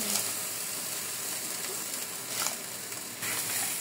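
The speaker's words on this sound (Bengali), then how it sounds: "আমি এখন ওই কাজের চালগুলো দিয়ে দেব।" Fermented rice for kaji bhat, a popular Barishal dish, goes into a cooking pot with a soft, steady sizzle and bubbling hiss, faint and close, with a slight stir near the end and no talking.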